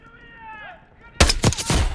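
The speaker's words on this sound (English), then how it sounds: "Exchanging fire!" Call of Duty: Black Ops 6 firefight: after a brief tonal voice and quiet lull, loud close gunshots erupt in a quick rapid cluster of heavy bursts.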